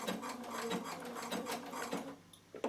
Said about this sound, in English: Now I'm going to put my machine onto single pattern because I'm going to use my knee control to turn it around to stitch it